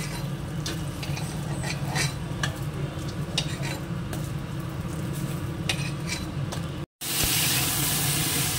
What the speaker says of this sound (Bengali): এই যে এখানে বেগুনটা ভাজতে দিয়েছি